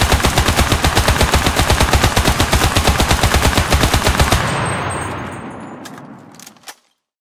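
A submachine gun in a World War II video game, set in Tunisia, fires a long rapid burst of loud evenly spaced shots, then stops and the echo fades away.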